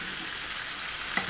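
Ribeye steak frying in butter in a pan, a steady close hiss of sizzling fat throughout with one brief sharp pop near the end.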